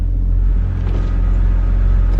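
Steady low engine rumble and exhaust drone of a BMW 328i fitted with a Magnaflow muffler, heard from inside the cabin with the windows closed, constant and fairly loud throughout.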